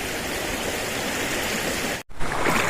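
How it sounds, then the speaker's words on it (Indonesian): Cold, clear water rushing from Madakaripura waterfall in a narrow gorge between two cliffs, a dense, loud continuous roar broken by a brief silent cut before resuming. "Aliran air dari air terjun Madakalipura cukup dingin ya, dan jernih"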